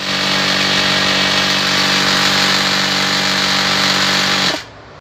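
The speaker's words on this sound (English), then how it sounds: "We can start now filling up our BE cylinder until 300 bar." Compressor filling a breathing apparatus cylinder to 300 bar, a loud steady droning motor hum with a strong tonal whine, running continuously before cutting off abruptly near the end.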